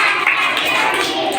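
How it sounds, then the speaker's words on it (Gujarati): A class of young children at a primary school in Morbi claps along during a counting rhyme, with busy, overlapping hand claps that blur into a steady patter rather than distinct single beats. "7 કહીને 7 તાળી રમીએ"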